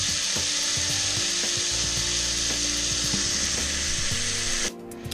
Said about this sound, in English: We're going to sear one side, quickly sear the other, and pull them from the heat